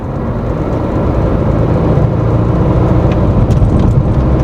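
A Tata Nexon diesel car engine drones steadily from inside the cabin while driving in fifth gear, a low, continuous hum with road rumble and no talking.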